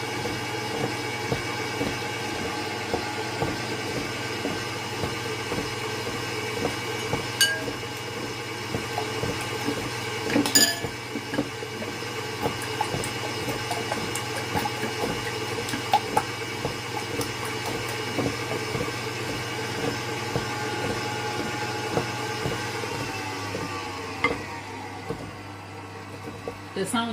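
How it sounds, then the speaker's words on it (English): An electric mixer beats crusty crystallized sugar with margarine for cake batter, giving a steady, grinding whir with gritty rattling that runs throughout at moderate level, with occasional sharp clinks. "The sound you hear in the mixer is the sound of the crusty sugar"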